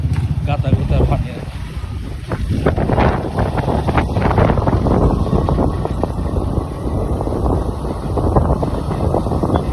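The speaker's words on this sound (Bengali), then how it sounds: "বালি ঝড় এবং শীতল হাওয়া, ঝড় বৃষ্টি হয়েছে" A sudden sandstorm in Keraniganj, Dhaka, with cold gusts. Strong, roaring wind buffets the microphone continuously and loudly, with low rumbling throughout and surging gusts.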